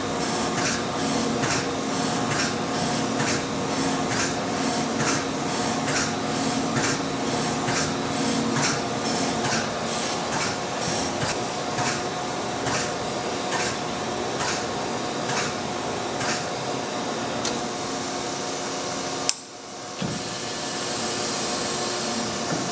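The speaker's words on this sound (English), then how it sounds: "Now we're doing the final dress, and we will begin fine grinding." A Chevalier AD III precision grinder with an automatic dresser runs a final wheel dress and then fine grinding, giving a steady dense machine whir with regular scraping pulses throughout, a brief dropout near the end, then the grinding resumes alone.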